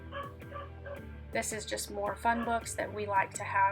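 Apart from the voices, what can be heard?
dog barking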